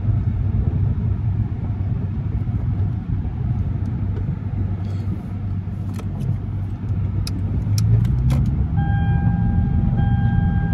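Lexus IS 250 driving on snowy Texas roads in snow mode, a steady low interior rumble of engine and tires, with faint clicks and a tonal chime near the end.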